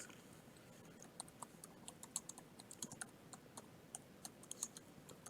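Keys clatter on a computer keyboard as a chart title is typed, a steady run of quiet, close clicks with small irregular bursts and no voices.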